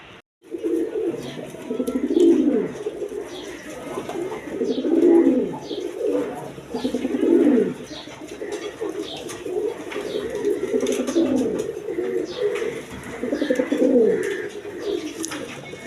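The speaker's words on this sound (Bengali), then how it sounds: "এক পেয়ার সিরাজি লাহোরি কবুতর আছে" A pair of Sirazi Lahori pigeons coo close by in a loud, low, throaty rhythm, with swelling calls repeating every few seconds over a faint background hum.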